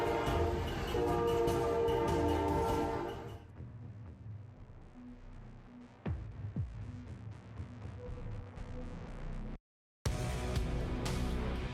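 A rushing train sounds a loud, sustained horn blast at first, then gives way to a quieter, rumbling roar with a few sharp knocks and a brief dropout to silence near the end.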